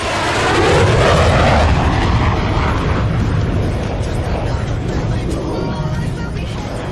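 Loud, continuous roaring jet engine of a Boeing F/A-18 Super Hornet performing a vertical pirouette at an airshow, a broad rumbling wash that swells and holds close by without speech.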